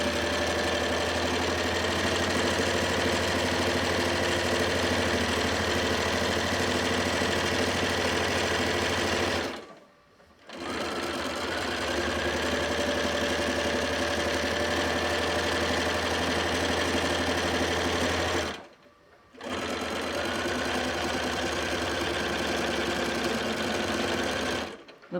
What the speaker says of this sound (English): And now I'll just keep right on sewing.